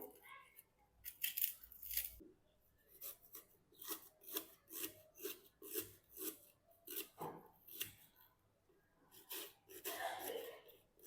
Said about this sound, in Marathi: आता आपण कांदे कापून घेऊया